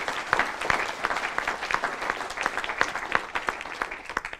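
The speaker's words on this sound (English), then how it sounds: "May I have a big applause" Audience applause at an auditing research conference session, a steady dense patter of many hands with sharp individual claps standing out, sustained at moderate loudness throughout without speech.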